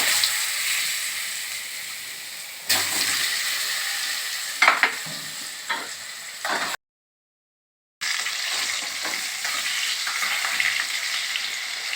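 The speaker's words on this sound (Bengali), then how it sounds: "এবার যে আলুগুলো আমি আপনাদের দেখিয়েছিলাম সেই আলুগুলো ভালো করে ভেজে নেব" Potatoes frying in oil in a pan make a steady, bright hiss and crackle close up, broken by a few stirring scrapes and one short gap of silence. No one speaks.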